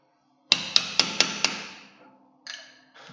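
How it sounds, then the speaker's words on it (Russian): A hammer drives a chisel against a car's brake drum cap, five sharp metallic strikes in an even rhythm with ringing decay, then two softer knocks after a pause, close and loud with no talk. "С помощью зубила и молоточка мы его сдвигаем."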